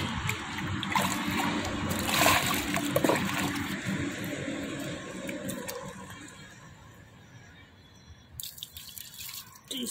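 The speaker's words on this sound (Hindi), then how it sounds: "देख लेते हैं चापाकल में, हाथ पैर धो लेते हैं।" Water splashes and gushes from a cemented hand pump while hands and feet are washed outdoors, with irregular splashing and dripping that is loud at first and then tapers off.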